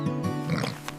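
A farm piglet grunts and oinks in a quick, close run of short snorting calls, with a faint breathy squeal near the end.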